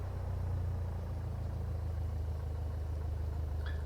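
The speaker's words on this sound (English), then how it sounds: "Retard the throttle back down, make sure it holds in idle, it doesn't die." A light aircraft engine idles in a flight simulator during a run-up check, a steady low droning hum with a faint brief tone near the end.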